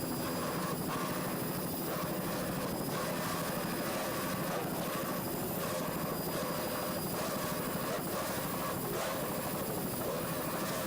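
A filming helicopter flies over a powerboat race, its rotor giving a steady, loud, continuous thudding drone with a rhythmic pulse throughout.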